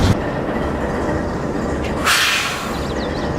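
A freight train rumbles steadily past, its wheels clattering on the rails close by, with a brief burst of brighter screech or hiss partway through.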